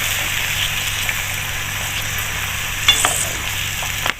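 Coconut milk vegetable stew with tofu and tempeh stirred in a pot, a steady hissing bubble throughout with a few soft scrapes of the spoon near the end.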